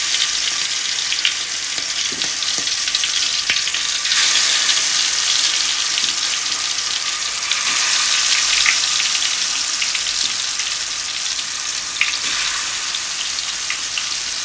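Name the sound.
tiger prawns frying in hot oil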